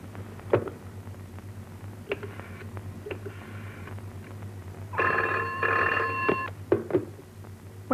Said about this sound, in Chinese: 请吴玲玲小姐听电话好吗？